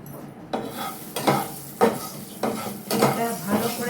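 Black cardamom, green cardamom, cloves and black peppercorns sizzling in a hot pan, stirred in about six distinct scraping strokes over a soft frying hiss, close and clear.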